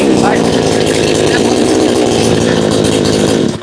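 A large tree-cutting machine, the SRB Pro Max with a 36-inch bar, runs loud and steady at high revs close by, its engine drone holding constant before cutting off at the end.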